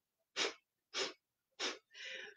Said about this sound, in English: it's that concept of forceful exhale